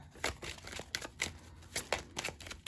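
Bursts of soft riffling and papery flutters, several quick shuffles in a row at close range, with no talking.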